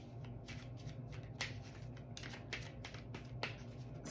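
A deck of angel cards is shuffled by hand at close range, a soft steady riffling with several sharper snapping flicks, quiet and with no talking.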